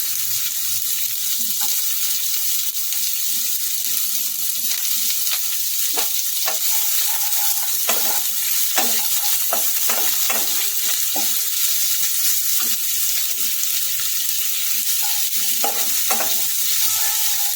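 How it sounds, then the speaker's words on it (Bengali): Chopped onions dropped into hot spiced oil for soybean pulao and fried lightly, a loud, continuous sizzle broken by repeated spatula scrapes and stirring clatter, close up and with no talking. "এবার আমি কোচানো পেঁয়াজটা দিয়ে দেবো পেঁয়াজটাকে হালকা করে ভেজে নেব"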